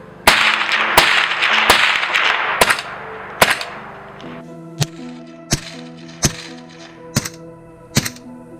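Sharp gunshots from a suppressed 300 Blackout rifle at night, about a dozen spaced reports: three supersonic rounds cracking loud with a hissing wash, then two subsonic rounds as duller thumps over a faint ringing hum.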